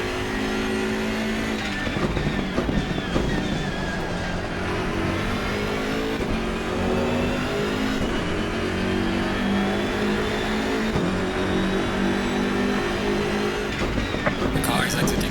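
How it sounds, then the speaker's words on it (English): A BMW M6 GT3 race car in Assetto Corsa Competizione pulls out of the pits at Mount Panorama, its engine droning steadily with rising revs, loud and close throughout, while a voice talks over it. "The car is exiting the pits"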